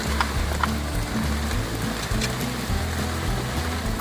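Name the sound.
heavy rain falling outdoors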